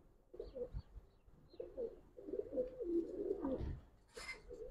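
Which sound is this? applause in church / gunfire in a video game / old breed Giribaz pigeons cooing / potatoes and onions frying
old breed Giribaz pigeons cooing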